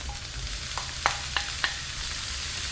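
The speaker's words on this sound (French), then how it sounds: "L'huile était super chaude. Et je vais ajouter les pleurotes." Oyster mushrooms sautéing in very hot oil in a pan, a steady hiss of frying punctuated by three or four sharp clicks of a utensil knocking the pan.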